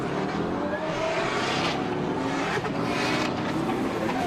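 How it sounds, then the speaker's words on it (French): Camaro and BMW drift cars launch side by side at a Pure Drift competition, a loud continuous engine roar with broadband tire and exhaust noise that stays dense and steady throughout. "Top déclenchement pour les deux pilotes, la Camaro qui va chasser la BMW"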